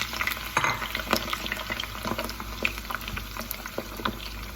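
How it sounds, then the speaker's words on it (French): Potato pieces frying in hot olive oil for a Spanish tortilla give a continuous crackling sizzle with bubbling and stirring taps, steady and close, with no talk. "On vient rajouter les pommes de terre."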